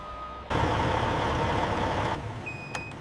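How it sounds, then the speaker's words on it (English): A truck pulls away from a loading dock with a loud engine rumble that surges and then drops back, followed by a short high beep near the end. "The massive vehicle pulls slowly away from the loading dock bay."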